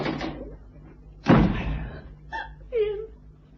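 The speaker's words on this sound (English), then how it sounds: "Cannon, when I open this door, I want you out." A door is opened with a sharp thump and a rattle of the handle, close by, between short bursts of talk in a radio drama.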